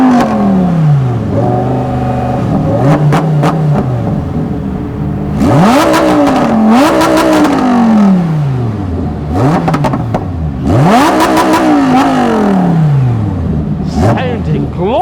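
A Lamborghini V10 revs repeatedly at a supercar weekend sound-off, loud and close, with engine pitch sweeping up and falling back in several blips while a commentator talks over it.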